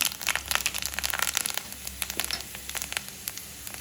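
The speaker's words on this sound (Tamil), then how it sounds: "முதல்ல நாங்கள் கடுகு போட்டுக்கொள்வோம் கடுகு பெருஞ்சீரகம் வெந்தயம் போட்டுக்கொள்வோம்" Mustard, fennel and fenugreek seeds sizzle and pop in hot oil for a prawn curry, with dense crackling bursts loudest at first, then thinning into scattered spits over a steady hiss.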